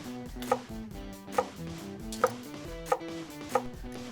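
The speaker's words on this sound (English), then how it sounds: "Similar to how we cut an onion, take the cabbage." A knife chops cabbage on a cutting board in a home kitchen, five sharp, evenly spaced knocks landing over steady background music.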